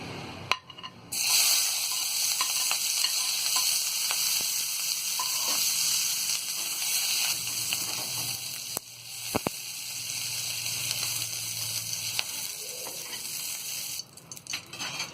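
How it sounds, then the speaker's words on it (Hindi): Onions frying in a kadai while making kadai paneer, a steady close sizzle that runs almost the whole time with a few light clinks of a spoon, and no voices. "अब इसके बाद में हम ये प्याज को फ्राई कर लेंगे।"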